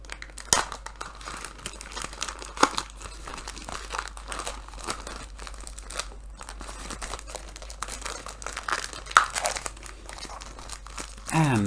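Plastic packaging around a comic with a foil cover being torn open, close crinkling and ripping throughout with a few sharper crackles, under someone talking.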